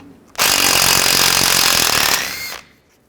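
A power impact tool spins out a bolt with a 13mm socket while brake cables are replaced on a 1999-2007 Chevy Silverado 2500, giving one loud, steady, close-up buzzing whir of about two seconds that then winds down.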